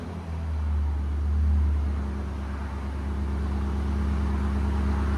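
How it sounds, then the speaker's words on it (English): A 2020 Nissan Armada 5.6L V8 with a Magnaflow dual exhaust idles close by, a deep, steady burble, low and even, with a slight swell early on. "Here's sound decibels at idle. Let it idle."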